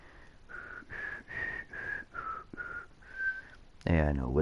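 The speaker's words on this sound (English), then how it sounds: "Yeah, I know whistling on a video is not usually good." A person whistles a short melody, a run of clear sustained notes close to the microphone, which breaks off into a voice at the end.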